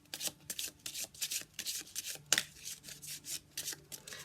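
Oracle cards are shuffled in quick, rhythmic riffling bursts, soft and close, with one sharper snap of a card partway through.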